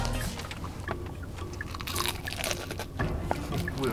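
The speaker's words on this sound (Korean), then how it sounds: "닭다리 하나 먹어보도록 하겠습니다" Loud crunchy bites into a fried chicken drumstick, several crackly crunches with chewing, close up and mostly alone.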